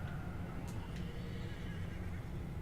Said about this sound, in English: Whoa, this horse just tried to kick me.